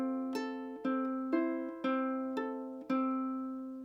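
A ukulele picks the opening measure of a song's melody as six evenly weighted, ringing notes at a steady pace, with no accents and no talking.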